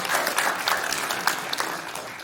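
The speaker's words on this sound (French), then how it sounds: "Donc vous pouvez applaudir votre secrétaire qui vous a fait le rapport." A seated assembly at an elders' association general meeting applauds its secretary, a steady dense clapping of many hands held at an even level for the whole stretch.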